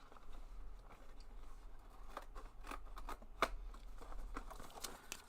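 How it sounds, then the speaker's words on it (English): Embroidery scissors snip through paper in a string of quiet, irregular cuts, each a sharp little click over a soft hiss of room noise, with no voices. "I'm going to have to use my embroidery scissors like a heathen."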